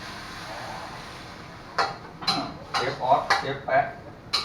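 Holy basil for pad kaprao is stir-fried in a pan, a spatula striking and scraping the metal in a quick series of about six sharp clanks over a quiet background hiss.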